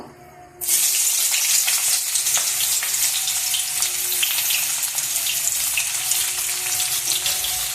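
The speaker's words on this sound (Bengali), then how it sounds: "পেঁয়াজটা লাল করে ভেজে নেবো" Onions drop into hot oil in a pan with a sudden loud hiss, then a steady, close, crackling sizzle that continues evenly throughout with no talking.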